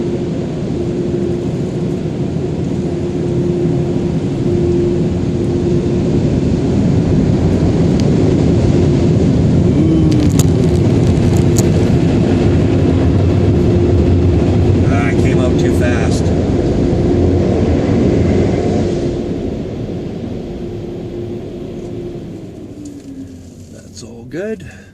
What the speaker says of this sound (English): And here are those dryers. Hold on to your earbuds. It's about to get loud.